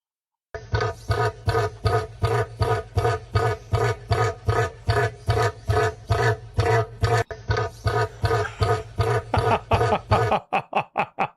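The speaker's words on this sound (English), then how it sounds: "That's a cassowary." A cassowary, a large Australian bird, gives a loud, close run of about twenty deep, rhythmic rumbling grunts at a steady pulse. It has a brief break partway through and ends in quicker, thinner bursts, with no voices over it.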